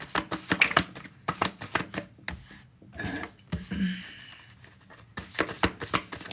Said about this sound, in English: I just want to shuffle and kind of let them fall here.